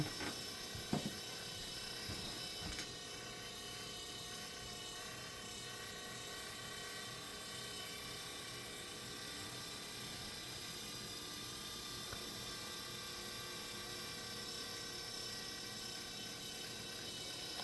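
Homemade rotary tumbler spinning steadily, a faint continuous mechanical whir and hum with a few clicks near the start, unbroken throughout.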